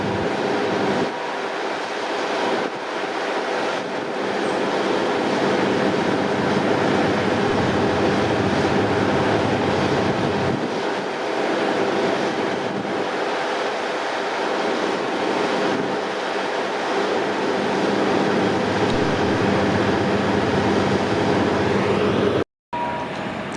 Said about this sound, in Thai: ตอนนี้รถพร้อมออกมาแล้วนะขบวน 953 ขบวนพินิจงานของผู้ว่าการรถไฟแห่งประเทศไทย